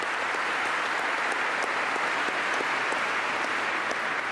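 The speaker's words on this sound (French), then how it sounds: "Applaudissez-vous." Sustained, dense applause from a large audience filling the British Parliament chamber during a wartime address by the Ukrainian president, steady and loud throughout with no talk over it.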